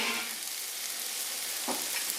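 Sliced onion and cabbage frying in a pan for egg-free atta noodles, giving a steady close sizzle throughout with a brief stirring scrape near the end.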